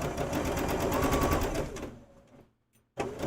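A sewing machine stitching quilt fabric, a fast even mechanical whir close by that runs for about two seconds, slows and stops, then briefly starts again.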